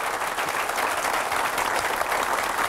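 A crowd applauding steadily at a motivational training event in Mumbai, a dense wash of clapping hands that stays even and loud throughout the short stretch.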